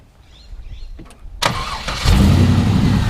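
A 1957 Ford Thunderbird with an LS Corvette V8 cranks briefly, then catches and fires into a loud, deep rumbling idle, close by.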